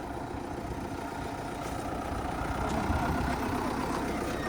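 A tractor engine idles steadily nearby, a continuous low rumble with a slight rise in loudness partway through.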